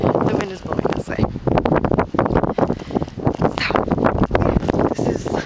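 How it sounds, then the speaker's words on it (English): Gusty wind in a Colorado blizzard at night buffets the microphone in loud, uneven roaring bursts, with a person speaking under the rumble. "the wind is blowing this way"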